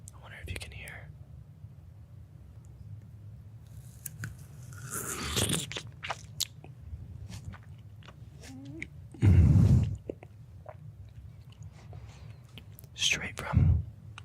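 Grapes from Erewhon are chewed up close for ASMR, with wet crunching bites and bursts of mouth noise between stretches of soft whispering and quiet handling sounds.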